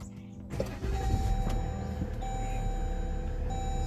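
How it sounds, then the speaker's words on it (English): A 2014-2017 Jeep Grand Cherokee starting up, a brief crank at about half a second followed by a steady engine idle rumble close by, with a thin electronic tone running through it. "So we're going to start the car."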